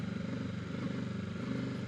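A 2025 Kawasaki Ninja 650 engine runs hard through an abrupt upshift on a cold ride, a loud, steady close-up drone with a rhythmic pulsing throb and no talking.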